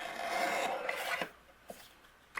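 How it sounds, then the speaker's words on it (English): A paper trimmer slices a border off patterned cardstock for a handmade St. Patrick's Day card, a continuous rasping cut for about a second followed by a few light clicks and taps, close and quiet. "let's trim that border off of the bottom"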